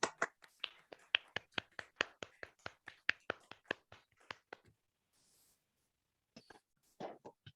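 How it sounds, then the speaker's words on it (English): Sparse, close clapping from a few participants in an online Toastmasters club meeting, around twenty distinct hand claps in an uneven rhythm, fading into quiet with a couple of soft sounds afterward. "please unmute themselves and give a warm round of applause to Toastmaster Kalpita"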